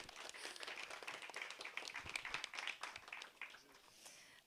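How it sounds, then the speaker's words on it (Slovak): An audience claps at a festival, a fairly faint flurry of overlapping claps that builds and then thins out toward the end, with no voices on top. "A ja som rada, že ste dali potlesk"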